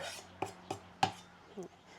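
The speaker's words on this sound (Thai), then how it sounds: "จะหั่นผ่าเฉียงๆ นิดนึงค่ะแบบนี้ใส่ลงไป" A few sharp knife taps against a cutting board while slicing a large tomato at a slant, spaced irregularly, close and fairly quiet.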